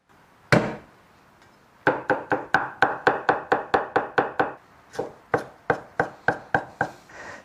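Ginger, scallion and garlic being minced for Sichuan-style fish: one sharp knife strike, then a quick, steady run of about a dozen chops, a short pause, and another burst of rapid chopping, close and crisp.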